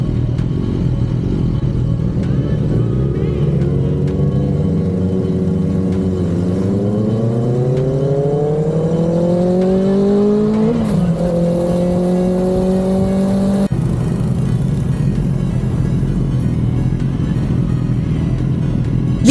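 A BMW S1000 superbike engine revs and accelerates close by. Its tone climbs smoothly through the gears, with shift breaks along the way, over a steady wind and road rush.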